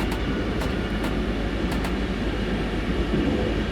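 A BR146 electric locomotive runs in Train Sim World on the Hamburg–Lübeck route, giving a steady rumbling rail drone with a few faint clicks, close and continuous with no voices.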